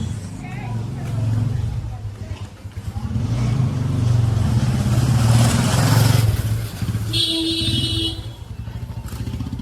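A car engine hums and rumbles as it moves along a road, steady and close, with passing traffic and a brief high horn-like tone near the end. People talk over it.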